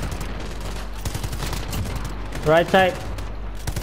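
Rapid bursts of light machine gun fire in a Call of Duty Modern Warfare video game, a dense stuttering clatter running throughout, while a voice calls out and another voice briefly cuts in.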